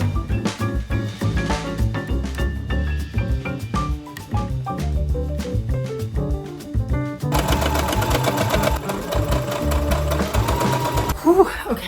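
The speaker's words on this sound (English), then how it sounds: "Okay, so I have just sewn the first seam" A sewing machine stitches a seam on a garment with a ruched ruffle, running in a loud, close, steady mechanical chatter that shifts speed partway through, with no speech over it.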